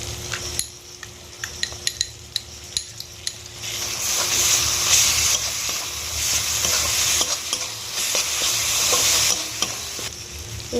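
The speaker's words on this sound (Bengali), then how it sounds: "এবারে আমি আদা রসুন বেটে রাখাটা দিয়ে দেবো।" Ginger-garlic paste sizzling in hot oil with ground spices for potato biryani, stirred by a spoon that scrapes and clinks against the pan in steady close strokes over a continuous loud frying hiss.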